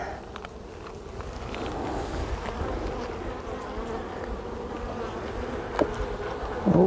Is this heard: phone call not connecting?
no